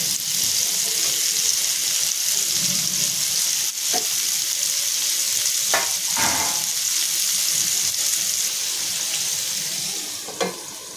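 Bitter gourd (karela) slices fry on medium gas, giving a steady, close sizzle throughout with a few soft stirring scrapes and clinks, and no voices.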